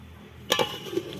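A metal lid set down on a pot of simmering egg and red lentil curry, one quick double clink followed by a lighter tap, soft and close against a faint kitchen background.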